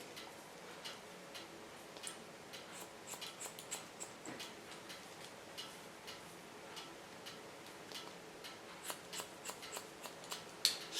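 Scissors cut fabric along a pattern's cutting line: faint, steady, irregular snips and ticks repeat throughout, close up and quiet, with no talking.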